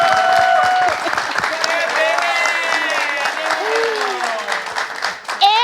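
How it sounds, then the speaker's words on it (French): A crowd applauds at a New Year's Day show, continuous clapping heard under a speaking voice and tonal sounds layered over it. "On applaudit"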